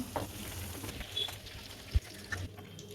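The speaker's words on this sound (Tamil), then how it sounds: "இதையும் நல்ல மீடியம் ஃப்ளேமில் வச்சு நல்லா வேக வச்சு எடுத்துக்கலாம்" Chicken bajji frying in oil over a medium flame, a quiet steady sizzle and bubbling with a few soft clicks and one sharp knock near the middle.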